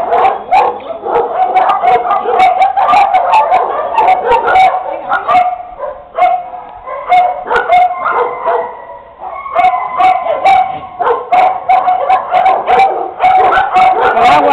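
Several small dogs yap and bark excitedly in quick, overlapping bursts, close and loud, with some whimpering mixed in throughout.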